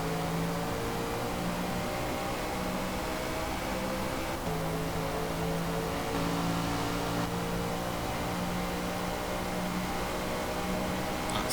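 Racing car accelerating hard down a straight in Forza Motorsport, a steady sustained engine drone with layered harmonic tones holding loud and even for the whole stretch, no voices.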